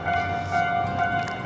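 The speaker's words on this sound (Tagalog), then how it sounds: "May tren." Train passing near a walking route in Nara, Japan, giving a steady rumbling roar with a droning tonal hum, continuous and fairly loud throughout.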